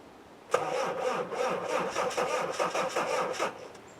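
A Land Rover Defender 300Tdi 110 diesel cranks briefly, then catches and runs with a rough, loud clatter for a few seconds before settling back, close by with no talking.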